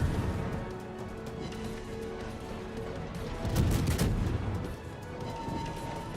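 Ship guns fire in a naval battle video game, heard as a series of dull, rumbling booms and crackling blasts of moderate loudness, with one heavier salvo near the middle.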